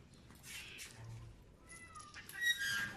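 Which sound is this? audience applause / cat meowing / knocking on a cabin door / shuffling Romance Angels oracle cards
cat meowing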